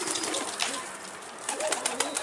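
Pigeons coo softly outdoors among a loft flock as a stray bird comes in to land, with scattered brief bird calls and faint flutter over steady background noise.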